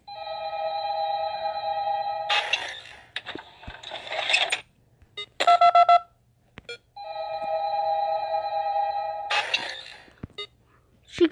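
Phone tones from an in-game telephone in the horror video game Five Nights at Candy's 2: two long, steady electronic ringing bursts with harsher noisy clicks and short blips between them, loud and close, with no talking.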